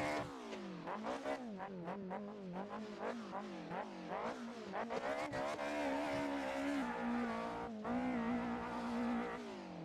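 Simulated BMW E30 in Assetto Corsa traffic mode, engine revving hard through repeated rising and falling sweeps as gears change, loud and continuous, with tire squeal mixed in.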